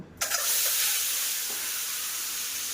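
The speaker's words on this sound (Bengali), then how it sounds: "তেলটা গরম হয়ে গেছে, এবার তেলের মধ্যে ডিমগুলোকে দিয়ে দেব।" Hot mustard oil crackles and sizzles steadily after a sudden burst as eggs drop into the pan, with no talking.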